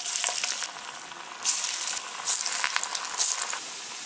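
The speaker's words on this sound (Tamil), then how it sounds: "இப்போ நம்ம ஃப்ரை பண்ணி எடுத்துக்கலாம்." Spinach vada (keerai vadai) frying in hot oil, a steady close crackling sizzle that swells in bursts as the batter hits the oil, with no voices.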